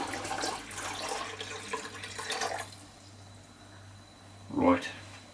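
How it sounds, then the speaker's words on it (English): Tap water pours into a container, a soft continuous splashing rush that fades, then a brief louder gush near the end, with a faint hum underneath and no talk. "Let's add the tap water in."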